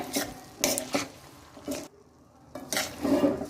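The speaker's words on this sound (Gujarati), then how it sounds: "અને આપણે સારી રીતના મિક્સ કરી દઈએ।" Mung bean pulao stirred in a pan over a low flame, a run of irregular scraping and clinking strokes with short pauses, close up and moderately loud, no voices.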